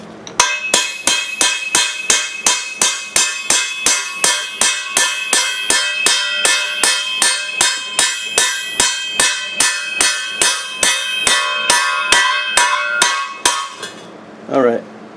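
Steel spike teeth hammered into a homemade spike tooth harrow frame for a garden tractor, a long run of steady, evenly spaced ringing metallic blows close by, ending in a brief scrape.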